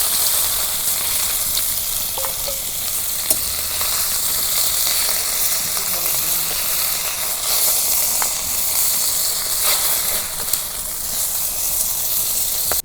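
Rupchanda pomfret fish fry in hot oil, giving a continuous close sizzle and hiss with occasional sharp pops and crackles, no talk.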